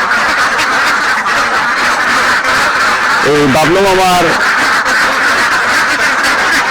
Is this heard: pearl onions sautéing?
no